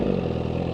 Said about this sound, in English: I revved the bike.